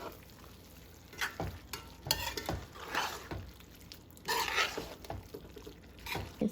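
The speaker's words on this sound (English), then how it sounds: "15 minutes has passed since my Bora has been frying, so I'm gonna do a quick turn" Bora frying in a pot being stirred, with close scraping and clattering strokes over a soft sizzle, in irregular bursts.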